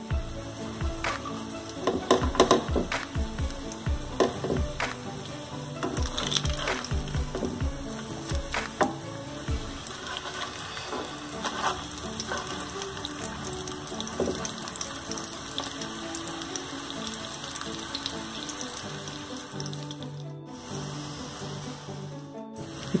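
Aloo noodle snacks frying in a pan of oil produce a dense, steady crackling sizzle for a long stretch, busier and louder early on, with faint clinks and no speech.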